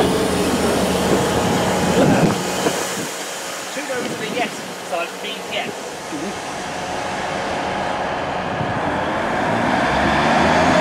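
Passenger train running on a Northern line service near Batley in March 2017, a broad steady rumble and roar lasting throughout, with muffled voices inside the carriage.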